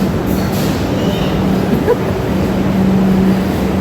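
A metro train runs at an underground station, a loud steady rumbling roar with a faint tonal hum that holds throughout the short stretch, with no talk.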